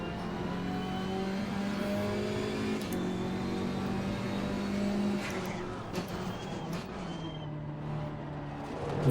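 KTM X-Bow GT4 race car engine in Assetto Corsa Competizione at the Hungaroring, a loud continuous drone that rises and falls as it revs through gears and corners, steady throughout with no talk.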